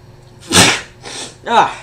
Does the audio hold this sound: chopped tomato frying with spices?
no